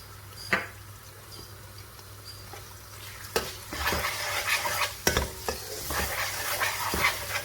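Onions fry with ginger garlic paste in a pan for a chicken liver curry, a low sizzle punctuated by a few sharp spoon strikes and bursts of vigorous stirring, nearby and unaccompanied by speech.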